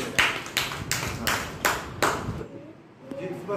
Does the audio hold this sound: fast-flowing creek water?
no